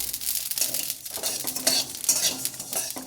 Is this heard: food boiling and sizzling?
yes